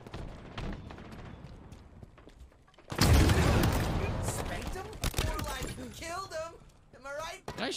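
Gunfire in the video game Halo Infinite: quieter play gives way to a sudden loud burst of rapid shots and blasts, followed by scattered impacts, while players talk and react excitedly throughout.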